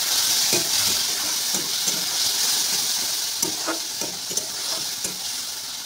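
Ground spices with cumin sizzle and fry in a pan after a splash of water, a steady loud hiss with scattered crackles and occasional stirring knocks, heard alone without talk.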